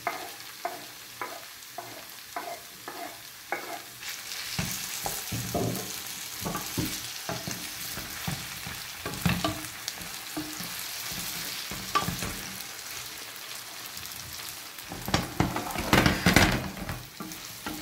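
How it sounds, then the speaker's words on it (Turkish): Potatoes fry in hot oil in a pan while a spoon stirs them, giving a steady sizzle with repeated scraping and clinking strokes, louder and busier toward the end. "Patateslerimizi içine salıyoruz."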